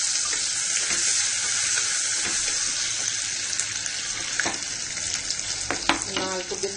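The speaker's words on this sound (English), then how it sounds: "Then saute it." Crushed cinnamon, cardamom, clove and black pepper sizzle steadily in a hot pan for a Kerala-style chicken stew, with a constant frying hiss and a few scraping stirs toward the end.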